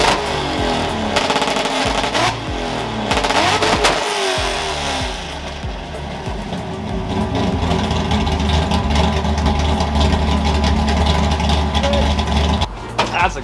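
Ford F100 pickup truck engine revving hard at close range, a loud sustained roar that rises and holds with throttle blips, filling the clip without pause.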